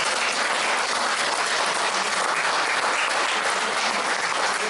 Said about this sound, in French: on va l'applaudir bien fort, s'il vous plaît